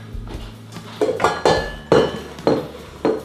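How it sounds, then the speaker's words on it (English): Butter and sugar being beaten together in a mixing bowl while baking teacakes, heard as a series of irregular knocking clinks and thumps of a utensil against the bowl, fairly close and with no talk. "we're going to beat together the butter and the sugar"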